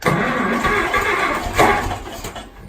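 A Farmall M diesel tractor cranks and fires on gas after years unused, a loud close rough engine roar with a whining surge partway through before easing off.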